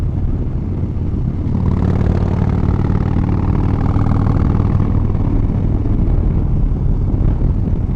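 A 2009 Harley-Davidson Dyna Fat Bob rumbles steadily on a ride, its loud, deep engine drone continuous and close throughout with no voices.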